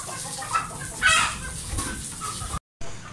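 An Aseel chicken that had been injured clucks nearby, a few short clucks over a steady background hiss, ending with a brief cutout.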